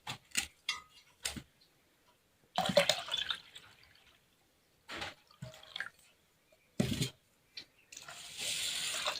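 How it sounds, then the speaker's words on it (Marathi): Soaked rice is washed in water for making rice papad, producing short, separate sloshing and splashing bursts close by, broken up by stretches of silence and ending in a longer swish. "मी आता परत दोन पाण्याने स्वच्छ धुवून घेते अजून"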